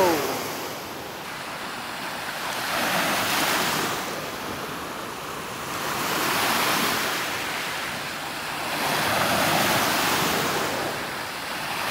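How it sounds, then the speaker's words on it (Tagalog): Strong ocean waves crashing on a beach in rising surf, surging in slow repeated swells every few seconds with steady wind roar between them. "Biglang lumakas yung alon ha."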